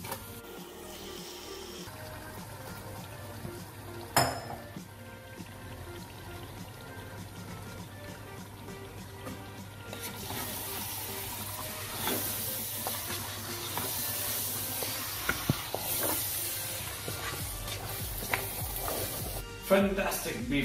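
Marinated beef cooking in a pan, a continuous hiss and sizzle that swells louder partway through, broken by a few clanks and taps of utensils, with a voice speaking at times.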